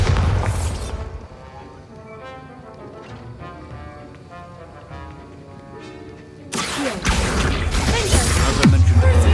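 Bombarda blasting spell cast in a video game at Rookwood Castle: a loud, roaring burst opens, a quieter rumbling, clattering stretch follows, then a second heavy blast erupts and sustains to the end.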